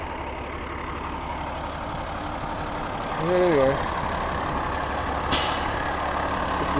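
A dump truck idles nearby after a long day of hauling, a steady mid-low engine drone with a brief hiss, while someone speaks a few words over it.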